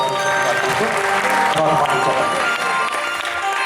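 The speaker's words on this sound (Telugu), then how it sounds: "సుధామయ్య గారికి గట్టిగా ఒక్కసారి చప్పట్లు" Audience applauding at a stage event honouring a speaker, dense sustained clapping from a crowd with voices mixed in, loud and close throughout.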